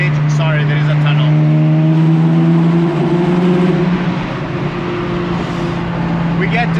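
A Porsche 996 GT3 engine droning steadily while the car drives through a tunnel, a loud, continuous low hum with enclosed reverberation that swells slightly, with someone speaking over it.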